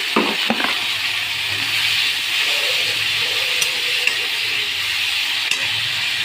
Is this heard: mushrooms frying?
yes